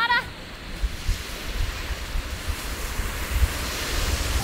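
Ocean surf rolls in at Virginia Beach near a fishing pier, a broad continuous wash of waves mixed with gusty wind buffeting the microphone, with a short voice at the very start.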